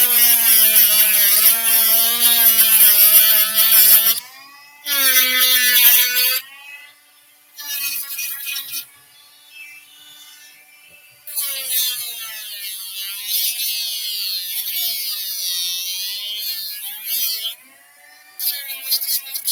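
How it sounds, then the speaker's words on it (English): A Dremel rotary tool cuts into a plastic Nerf blaster with a high whining buzz. Several bursts of varying pitch stop and start with short pauses between them, close and loud. "Dremel warning."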